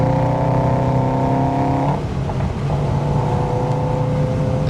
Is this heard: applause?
no